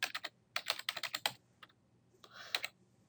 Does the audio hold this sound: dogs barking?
no